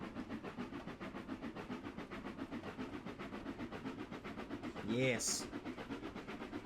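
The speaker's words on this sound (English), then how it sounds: "there's your first hearing of the chuffing sounds" A PRR T1 steam locomotive in Trainz Simulator 3 chuffing in a fast, even, rapid beat that runs throughout, with a short whistle-like tone and a brief spoken word near the end.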